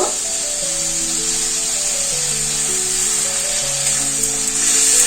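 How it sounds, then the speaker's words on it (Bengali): Spice paste of ground coriander, cumin and ginger sizzles and fries steadily in a hot pan right after water is added, a continuous loud hiss. "এই মশলার মধ্যে অল্প করে একটু জল দেব।"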